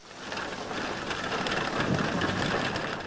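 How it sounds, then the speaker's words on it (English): Steady, dense rain pours down with a low roar of wind beneath it, continuous and fairly loud throughout. "The wind howled and the rain pounded against their window"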